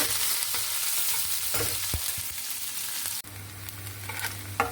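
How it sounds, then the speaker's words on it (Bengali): Chopped onion and garlic fry in a pan with a constant hissing sizzle, punctuated by occasional stirring knocks and scrapes. The sizzle drops briefly about two-thirds through, then resumes with a low hum underneath. "এখন দিয়ে দেব পেঁয়াজ রসুন কুচি এটাকে একটু বাদামি কালার করে ভেজে নেব"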